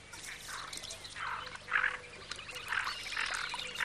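Ducks on a fishing lake give a series of faint, repeated quacking calls in short bursts over quiet outdoor background noise.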